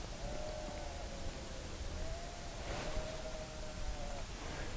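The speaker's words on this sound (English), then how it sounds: "sheep are going crazy." A faint, distant sheep bleats in a long wavering call over a constant hiss of background noise at night, with no other clear sounds.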